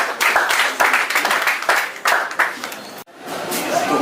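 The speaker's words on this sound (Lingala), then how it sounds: "Est-ce qu'on peut acclamer?" An audience at a French-speaking church gathering claps and applauds steadily after a prayer, a dense, loud burst of many hands that breaks off abruptly near the end before a crowd murmur resumes.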